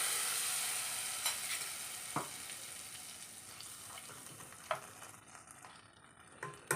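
A tempering of chili and curry leaves sizzles as it is poured into a curry, a hissing crackle that fades and softens over several seconds, punctuated by a few light clinks, with no speech.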